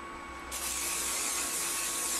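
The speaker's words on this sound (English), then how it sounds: "And then I'm going to just spray" A steady aerosol hiss of hairspray on curled hair starts abruptly and continues, loud and close, over a faint high tone.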